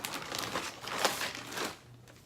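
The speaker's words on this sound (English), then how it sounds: "sorry about the crinkling" Plastic or paper packaging crinkling near a cross-stitch project, a continuous close crackling rustle with several sharper crunches, fading near the end.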